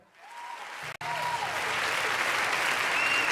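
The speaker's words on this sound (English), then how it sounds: "We have applause." Studio audience applause on a talk show, starting after a brief lull and swelling into a steady, loud ovation that fills the rest of the moment.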